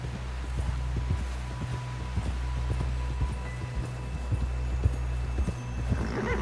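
Steady clip-clop of horse hooves at a quick pace in Red Dead Redemption 2, with a low rumbling bed underneath and a faint whinny near the end.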